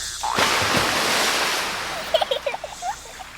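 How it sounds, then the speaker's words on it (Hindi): Flowing water in a river, a loud rushing wash that swells then eases, followed by a few short bubbling gurgles near the end. "नदी के बहाव में सोया हुआ अफीमी लाल बहता जा रहा था"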